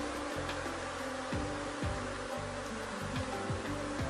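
A honey bee swarm gives a dense, continuous buzz close by, with individual bees droning past in waves over a steady hum.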